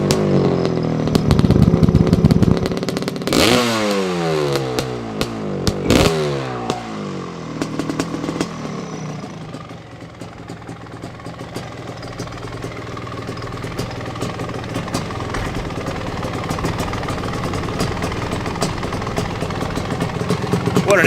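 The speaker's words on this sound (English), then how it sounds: "the Italian stallion, the boss, the Cagiva 500, the biggest two-stroke" A 1985 Cagiva WMX 500 two-stroke dirt bike engine revs loudly up and down in quick blips close by, then settles into a rough, crackling idle.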